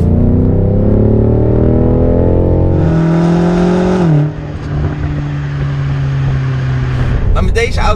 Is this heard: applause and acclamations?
no